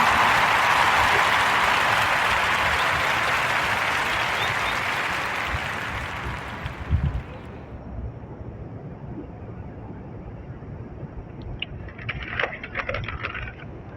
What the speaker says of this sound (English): join me in giving a warm Narrative Podcast round of applause to Mr. Craig Batiste and Mr.